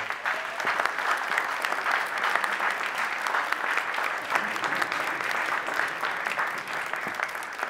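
An audience gives sustained applause for a young debuting actress named Maja at a film event, dense steady clapping filling the whole stretch with a faint crowd murmur beneath.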